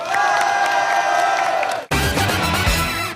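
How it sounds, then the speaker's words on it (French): A convention crowd at Japan Expo 2009 applauds and cheers for a game-show contestant, loud sustained clapping with whoops and shouts, briefly cut and then resuming just as loud. "Bravo Étienne, on peut l'applaudir"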